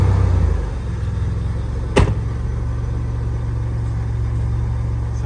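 An OG Toyota 4Runner crawls slowly in low range, a steady low engine drone with a faint constant supercharger whine, interrupted once by a brief sharp knock.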